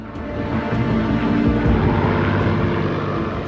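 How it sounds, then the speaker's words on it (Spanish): Piston engine drone of a Spitfire fighter aircraft flying over France in 1941, a steady, loud propeller roar that holds evenly throughout with no voices. "Bader salió con 4 Spitfire con la intención de cazar aviones alemanes sobre Francia."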